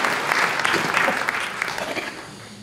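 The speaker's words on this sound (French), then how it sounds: "On peut l'applaudir." An audience applauds an author at a literary prize event, producing a steady, dense patter of clapping hands in a hall that continues throughout before tapering slightly.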